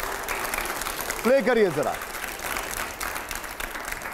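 A studio audience on a televised debate show breaks into loud continuous applause, with a voice briefly speaking over the clapping partway through.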